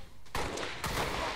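Gunfire in the XCOM mod Halofall, two loud blasts in quick succession, each trailing into a heavy rumbling decay.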